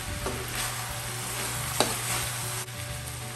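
Stuffing mixture for relyenong bangus, a stuffed milkfish dish, is stirred in a hot pan, producing a continuous close sizzle with soft scraping and one brief knock of the utensil, with no talking.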